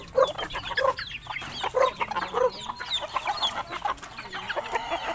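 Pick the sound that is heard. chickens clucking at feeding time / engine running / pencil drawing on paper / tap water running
chickens clucking at feeding time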